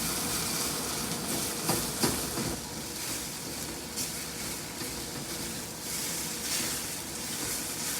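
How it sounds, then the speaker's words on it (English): Potatoes for a spicy Sichuan dish stir-fried in a hot cast iron wok, giving a steady, dense sizzle that hisses continuously close up, with a few brief clatters of stirring. "That sizzling sound is what you want to maintain."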